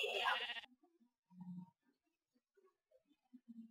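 Sheep in Minecraft bleating several times in short, soft bursts after a brief spoken voice, with quiet gaps between calls.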